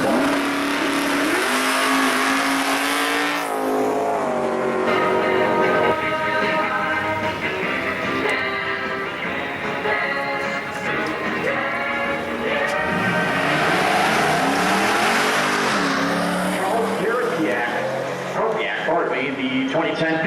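A 2010 Camaro pro street drag race car launches at the track during a nationals event, loud engine roar building and sustained across the run while an announcer talks over it.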